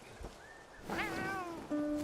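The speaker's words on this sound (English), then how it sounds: "If there's a cat here, I gotta stop." A cat in the open-world video game Where Winds Meet meows several times in rising, drawn-out calls, close and clear, with a longer plaintive cry near the end over quiet game ambience.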